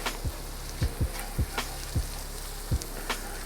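Shallot softening in butter in a pan over medium-low heat, a steady gentle sizzle broken by about eight sharp pops and spits, close by and with no talking.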